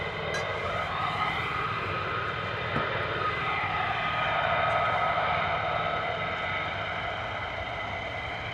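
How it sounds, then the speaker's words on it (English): F-35 fighter jet taxiing out at RAF Lakenheath, a steady distant engine whine and roar holding evenly throughout with no clear rise or fall. "Another F-35 coming out."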